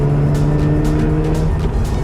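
A Mazda RX-8 takes a mountain road corner, its rotary engine holding a steady, loud droning note close up, with faint tire noise and no talking.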